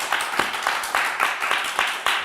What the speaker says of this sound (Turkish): Bir kuvvetli alkış verin arkadaşımıza lütfen.